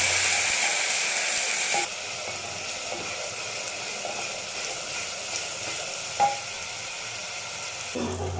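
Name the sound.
stirring masala with ginger garlic paste frying in pan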